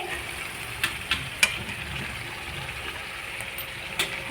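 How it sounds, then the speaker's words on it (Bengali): Fried potatoes tumble into a pan of simmering chicken curry, a faint steady sizzle with a few soft clinks and knocks from a spoon or pot, no voices. "দিয়ে দিলাম বেজে রাখা আলুগুলো"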